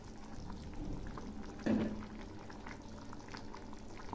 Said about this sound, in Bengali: মাছগুলো ছেড়ে দিচ্ছি।